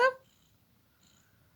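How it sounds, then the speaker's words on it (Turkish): A single short, high meow from a newborn kitten, close by, followed by a faint thin squeak and quiet background. "Kedi miyavlıyor."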